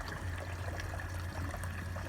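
Water from an electric pump runs steadily through a hose, a constant rushing trickle with a low motor hum beneath and no voices.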